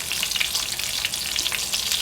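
Chicken fillet frying in hot oil, a dense, continuous crackle and sizzle with bright popping bursts throughout, close and loud, with no voices.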